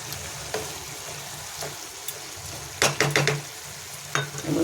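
A fish head frying in a pan over a low gas flame gives a steady soft sizzle, broken by a few brief scraping clatters of a utensil against the pan near the middle and end.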